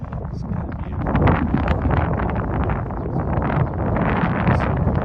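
Steady, loud wind buffets the microphone at the Wellington KOA campground north of Fort Collins, Colorado, a continuous low roaring rumble with gusting swells lasting the whole stretch.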